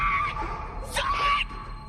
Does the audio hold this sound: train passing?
no